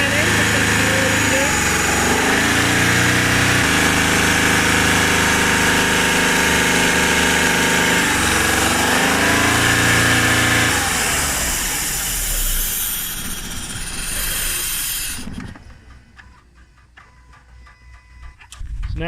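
Car engine idling after a can of Threebond engine conditioner has been poured in, a loud steady hum that holds for about twelve seconds before the engine is switched off and fades to near silence.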